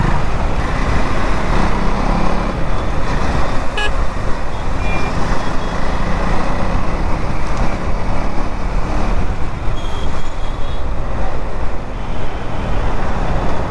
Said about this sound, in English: Traffic maneuvering with this motorcycle.